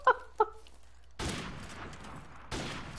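Call of Duty gunfire: two short tonal beeps, then two loud, close bursts of shots, each dying into a noisy tail.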